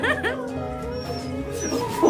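A dog whimpers and yips at a hospital reunion with its sick grandpa, giving high tonal whines and short yelps over a steady background hum, with voices audible.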